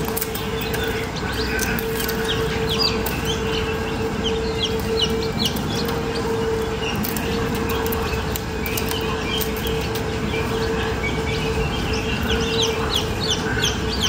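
Newly hatched chick breaking out of its egg during incubation, with steady high chirping and clucking of chickens going on throughout, nearby and fairly loud, with no talk.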